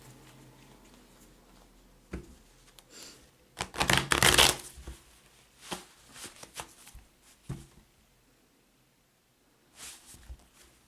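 Tarot cards being shuffled by hand, a soft riffling patter in several bursts with one louder flurry near the middle and brief pauses between, close and fairly quiet with no talking.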